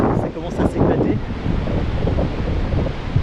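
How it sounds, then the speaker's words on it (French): High ocean waves break and roll along the New Zealand coast in the early morning, a steady close wash of surf mixed with gusting wind noise on the microphone, with no talk. "le verdict, c'est que les vagues sont hautes, elles sont vachement hautes même"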